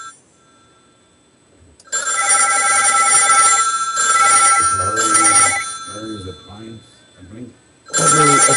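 An office telephone rings loudly in repeated long electronic bursts, with people talking between and over the rings.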